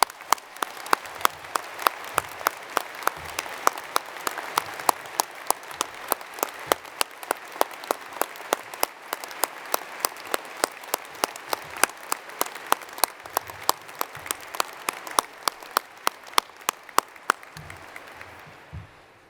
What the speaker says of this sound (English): give our 2019 class a massive round of applause for their achievements